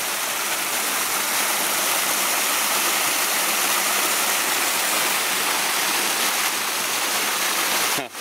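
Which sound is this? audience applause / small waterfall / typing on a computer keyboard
small waterfall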